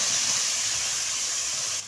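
Mashed green banana peel paste drops into hot oil with black cumin in a wok, setting off a steady loud hiss of sizzling that cuts off abruptly near the end.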